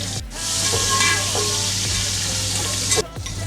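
Mutton pieces fry in ghee together with fried onions, a loud, dense hiss of sizzling that dips briefly near the start and again near the end as the meat is moved.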